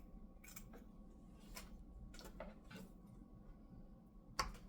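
Scissors trim sweatshirt fabric in a sewing session, a few quiet close snips spaced irregularly over a low room hum, ending with one sharper click.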